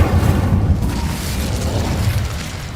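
Incendio fire spell cast in Hogwarts Legacy, a loud deep whooshing burst with low rumble that starts strong and sustains as a steady roaring flame.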